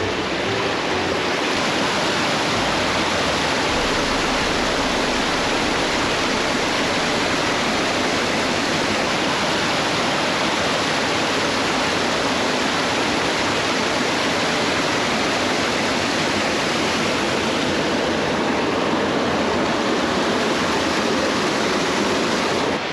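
Brook rushing over rocks in Padley Gorge in the Peak District, a dense, constant roar of flowing water heard close up and alone for the whole stretch, without any speech.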